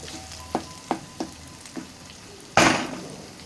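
Whole star anise, cinnamon, cloves and cardamom dropped one after another into hot oil, each landing with a short sizzle burst, then a louder, longer crackling sizzle near the end; close and otherwise quiet.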